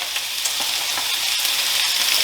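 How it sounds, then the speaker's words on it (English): Onions sizzle in a hot frying pan with a steady, close, bright hiss and faint crackles throughout, with no talking. "Your onions. Oh, the sizzle."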